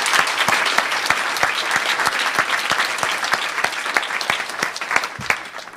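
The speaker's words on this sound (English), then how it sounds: "a big round of applause for our first panel and our second panel." An audience at a library and university fair use panel event gives sustained applause for the panelists, with many hands clapping in a thick, even roar and a few sharp individual claps standing out near the microphone.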